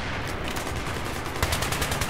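An L85A2 rifle fires in Battlefield 3, cycling at roughly 650 rounds per minute, with rapid, evenly spaced automatic shots close up that sharpen into a crisper burst in the last second.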